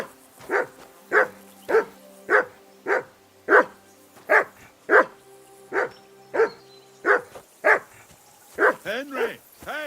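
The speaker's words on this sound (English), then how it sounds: "Jesus, Henry, that barking's driving me nuts." In Kingdom Come: Deliverance 2, a dog barks close by in a steady, evenly spaced series of about fifteen loud barks, and the last few quicken into yips. A voice speaks faintly under it.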